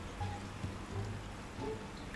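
Rain falls in the survival video game Icarus as a soft, steady patter of drops on surfaces. It stays quiet and even throughout with no talk.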